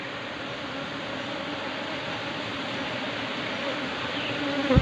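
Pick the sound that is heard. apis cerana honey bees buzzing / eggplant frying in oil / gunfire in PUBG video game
apis cerana honey bees buzzing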